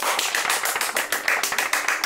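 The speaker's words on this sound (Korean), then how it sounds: "박수!" A single person claps in a quick, even run of about a dozen sharp hand claps, close and clear with no other sound.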